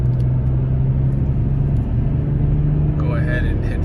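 A 6-speed manual BMW X5 Sport drives along with a steady low engine drone and road rumble, revs settling lower after a gear change, while someone talks over it.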